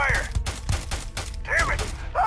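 Gunfire in the video game Starfield rattles off as a rapid volley of close, loud shots in a running burst, with a voice partly heard among the shots.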